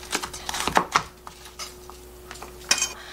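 A kitchen knife cuts an onion on a cutting board while jjajang sauce is prepared, giving a loose series of crisp, close taps and knocks with a faint steady hum underneath.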